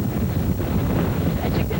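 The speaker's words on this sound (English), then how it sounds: "I'm going to step out just very briefly into the full force of the winds to give you an idea of what that is like" Hurricane-force wind roars outdoors on the Alabama coast, a loud, steady buffeting rumble that hammers the microphone without letup across the whole stretch.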